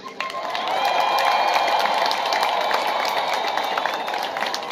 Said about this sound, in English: I want you to clap and support these people with ululations.